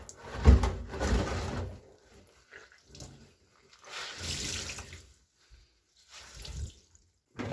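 A domestic washing machine filling with water on a normal wash cycle, with rushing, hissing water coming in several loud bursts separated by quieter pauses.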